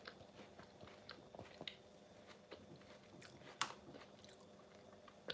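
A person chews mouthfuls of herby couscous and mango close up, making quiet, irregular wet munching and crunching sounds with a few sharper bites over a low room hum.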